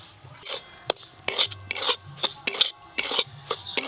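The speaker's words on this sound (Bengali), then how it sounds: "ঘি দিয়ে একটু অল্প করে ভাজবো।" Semolina is stirred while frying in ghee, heard as rhythmic, close scraping strokes of a spatula against the pan with light metallic clinks and no voices.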